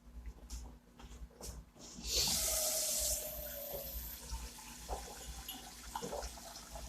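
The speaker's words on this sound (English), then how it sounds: "I'm just going to go ahead and put my water in here and boil my noodles." Tap water gushes loudly into a pot for boiling noodles in a home kitchen for about a second, then tapers to a softer trickle beneath quiet room noise.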